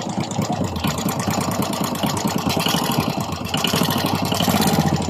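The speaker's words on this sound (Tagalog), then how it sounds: "parinig ko muna sa kanyo ang tunog ng kanyang makina nang hindi natin siya nabaklas." A motorcycle engine idles close by before being taken apart, a loud steady rapid putter with a slight rise in intensity toward the end.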